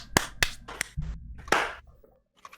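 A few people at a tabletop gaming session clap their hands, giving several sharp, separate claps close by followed by a brief softer scatter, with no talk over them.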